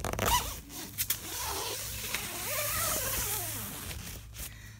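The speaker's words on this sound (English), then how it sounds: "there's a double zipper on here so you can do it from the inside" A double zipper on the door of a Coleman 9-person Hamptons tent is pulled along in a long continuous rasping run with a few sharp tugs, close and fairly loud, with no talking.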